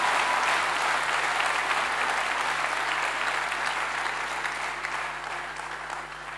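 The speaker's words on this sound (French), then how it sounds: "Clap for Jesus" A church congregation clapping for Jesus, a dense, loud sustained applause from a crowd that slowly fades slightly toward the end.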